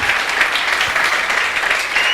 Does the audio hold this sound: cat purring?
no